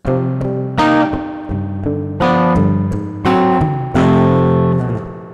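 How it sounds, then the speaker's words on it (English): Twangy electric guitar notes and chords through an Endorphin.es Ghost pedal's spring reverb ring out with a splashy, boingy tail, each hit echoing and decaying. "And then we've got a spring reverb."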